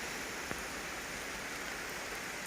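Steady rain pours down outdoors near a canal as floodwater rises, a dense even hiss with one brief faint tap early on, no voices.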